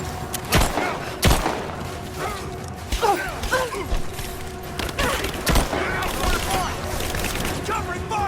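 Gunfire in the action game Rise of the Tomb Raider: several sharp, spaced shots crack over a mechanical combat soundscape while voices shout in the background.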